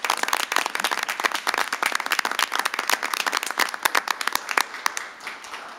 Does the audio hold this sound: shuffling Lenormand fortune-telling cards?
no